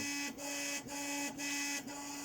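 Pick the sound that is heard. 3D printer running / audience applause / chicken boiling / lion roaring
3D printer running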